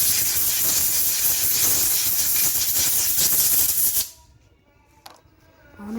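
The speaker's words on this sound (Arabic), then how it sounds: "احنا متعودين بعد ما نغسل بننضف بالهواء" Compressed air blowing to clean a washed Peugeot 307 gearbox: a loud, continuous hissing blast for about four seconds, then it cuts off abruptly, leaving faint workshop noise and a small clank.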